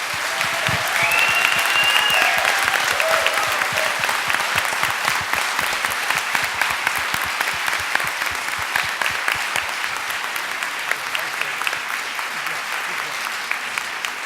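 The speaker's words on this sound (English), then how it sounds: "Give them all another good round of applause." An audience at an evening political meeting gives a sustained round of applause, dense rapid clapping that starts loud and slowly thins, with a few voices briefly heard at the start.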